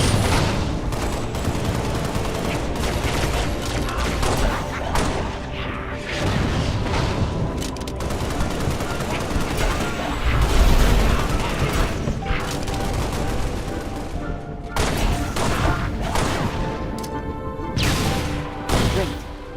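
Grenade explosions and bursts of gunfire from the video game Halo Spartan Strike, a dense, continuous barrage of loud booms and rapid shots with game effects and music underneath, running without pause.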